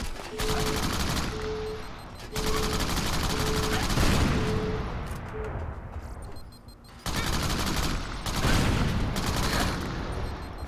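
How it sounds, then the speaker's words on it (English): Gunfire in the video game Crackdown: dense bursts of automatic shots rattle in long, loud volleys, broken by a couple of short pauses, with a repeating beep audible during the first half. "Shoot the gun out of his hands so he can't shoot us."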